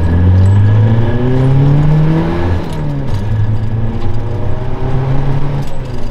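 A 260 hp VW Polo estate pulls hard under full throttle, its engine note climbing steadily in pitch as it accelerates. The engine is loud and close, with a strong low drone throughout and no voices.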